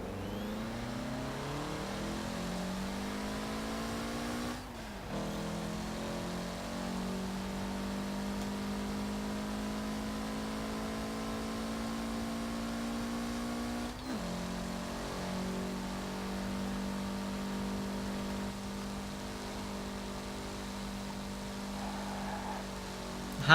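A Mitsubishi car in Forza Horizon 4 revs hard through the gears, its engine note climbing steadily then dropping back at each shift, with a constant loud turbo whir and whistle layered over the drone, no talk.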